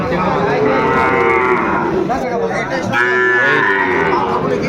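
Sahiwal bull calves moo loudly and repeatedly at a cattle market in Dinajpur, with long, close, overlapping bellows from more than one animal filling the whole stretch.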